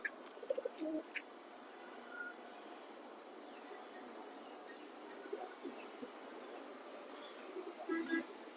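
Large racing pigeons coo in short bursts, once near the start and again near the end, over a quiet, steady background murmur.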